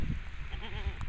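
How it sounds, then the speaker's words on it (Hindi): A goat that has recently given birth to two kids bleats once, a short wavering call heard close over a steady background hum. "सूई हुई बकरी है, एक नर एक मादा है"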